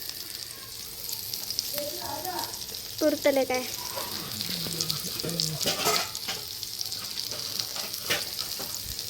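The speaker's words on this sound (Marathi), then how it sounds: "तव्यावरती गरम फ्राय करू" Fresh fish fries on a hot tawa with a steady, close sizzle and crackle, while a person speaks briefly over the hissing pan.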